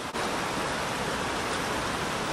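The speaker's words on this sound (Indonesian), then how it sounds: "Terus ada air terjun." A waterfall beside a clean river in Korea roars in a steady, dense wash of falling water, loud and close, with no voices over it.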